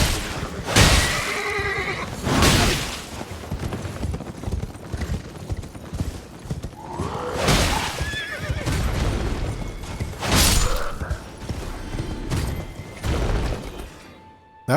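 Horses whinny and neigh in Elden Ring during a mounted fight at Mistwood Ruins, with loud repeated neighs rising over hoof clip-clop and combat noise, spaced across the span.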